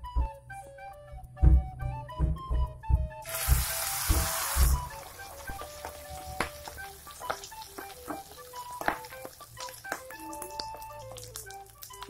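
Rice pizza batter frying in a lightly oiled Teflon pan, a steady close sizzle with a loud burst of hiss as the batter hits the oil, then softer crackling under clinks and scrapes of utensils.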